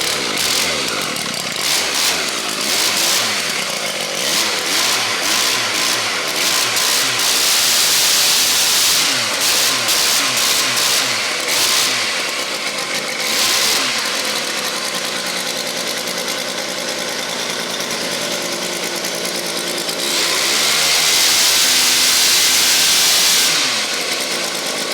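An old car engine runs with a rough, buzzing rattle, revving up and down loudly and steadily throughout, with no voices.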